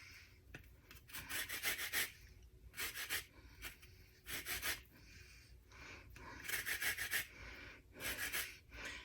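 Orange peel is rubbed across a zester for compound butter, giving quiet, close, rhythmic rasping strokes in short bursts separated by brief pauses.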